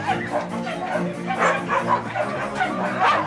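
Several dogs bark and yip excitedly in rapid, overlapping bursts before being let out to run, loud and close with continuous chatter.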